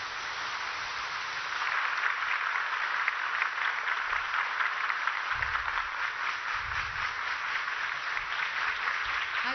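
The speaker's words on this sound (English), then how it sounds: "with a huge round of applause" A large audience gives a sustained round of applause at a military school's platinum jubilee ceremony, a steady wash of clapping that swells slightly and continues evenly.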